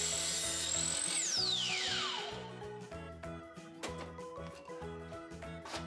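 A power saw cuts wood pieces to length against a stop set at 22.5. A high whine winds down, then short rhythmic thuds and clunks of boards being handled follow, close and fairly loud.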